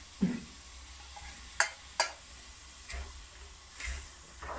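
Zucchini pulp goes into a pan, with a low sizzle of frying and a few sharp stirring scrapes and clinks of a utensil against the pan, moderately close and fairly quiet.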